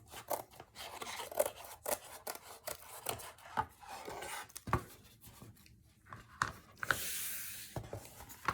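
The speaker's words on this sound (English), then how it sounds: "needs to be trimmed, and I'm going to try to do that with some scissors" Scissors snip and rasp through junk journal paper in a quiet, irregular series of crisp cuts and rustles, close by with no talking.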